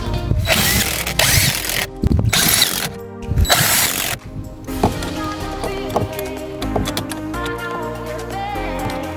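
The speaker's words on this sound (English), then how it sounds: "Now just put all those bolts back in." A ratchet winding bolts back in on the A/C blower motor of a Chevy Sonic, loud close clicking in bursts, then a faster run of fine ratcheting ticks.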